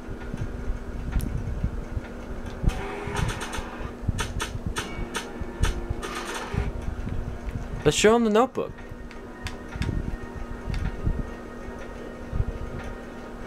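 A clock ticks in the Back to the Future adventure game, a faint, steady run of clicks over several seconds beneath someone speaking, with a brief warbling electronic tone cutting through midway.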